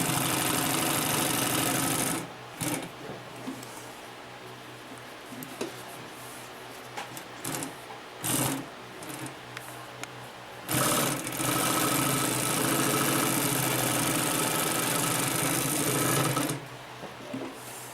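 A Consew P1255RB industrial sewing machine stitches through heavy, thick material, a close, loud, rapid mechanical chatter running in long bursts with short pauses between them.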